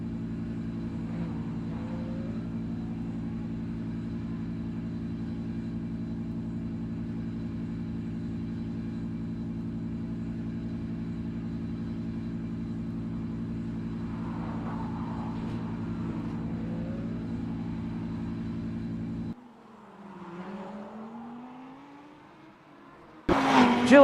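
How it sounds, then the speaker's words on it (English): Onboard the number 28 Lamborghini Super Trofeo race car at Detroit, a steady loud engine drone holds constant for most of the time, then cuts and shifts into a lower wavering tone before a sudden burst at the end. "Now on board with Tom Nazella driving the number 28 Lamborghini STC."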